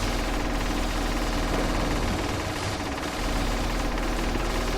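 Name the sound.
SMG gunfire in video game A.R.E.S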